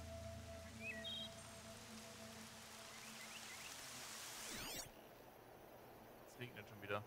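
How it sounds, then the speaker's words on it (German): Steady rain patters continuously in the background beneath faint sounds from the game Horizon, with a sharp swooshing burst partway through. "Es regnet schon wieder."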